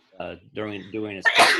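A single sharp sneeze bursts out at the end, close and loud, right after a stretch of voiced speech from a lecturer in a biology classroom.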